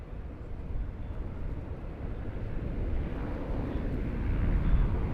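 A plane coming in to land at Sydney Airport on a wild, windy day, heard as a steady broadband roar of engine and wind noise that gradually swells louder toward the end, with no talk.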